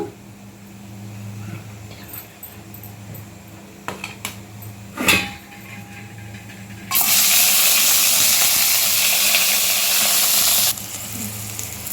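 Oil poured into a hot frying pan while making an Indian-style coriander chutney breaks into a loud, steady sizzle lasting about four seconds, after a few clinks of utensils and a low background hum.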